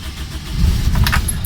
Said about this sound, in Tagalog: Okay, so start ko lang muna siya.